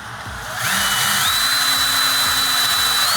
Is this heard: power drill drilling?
yes